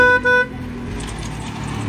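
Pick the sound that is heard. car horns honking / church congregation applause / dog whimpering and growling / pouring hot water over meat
car horns honking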